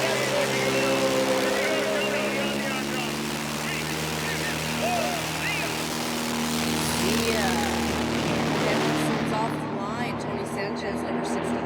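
STOL propeller aircraft at a 2023 STOL drag racing national championship air race give a steady engine drone from a distance, heard under continuous announcer commentary.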